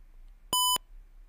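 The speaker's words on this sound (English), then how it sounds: "So there's the beep." An Arduino buzzer in a simulated password lock gives a single short, clean electronic beep for a correct code, one tone of about a quarter second against near silence.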